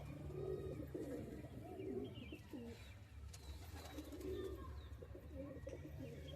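Young pigeons cooing in a loft, soft repeated throaty coos close by over a low steady background hum, with faint chirps between.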